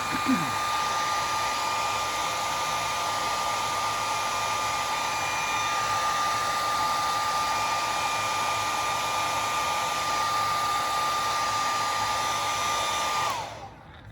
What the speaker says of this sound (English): Now let me use my dryer again.